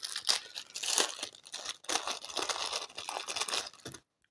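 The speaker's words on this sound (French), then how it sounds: "Je vais déballer ça pour voir un petit peu à quoi ça ressemble" Close crinkling and tearing of plastic wrapping as a pack of pieces from a Secret Hitler board game is unwrapped, steady rustling for about four seconds, then silence.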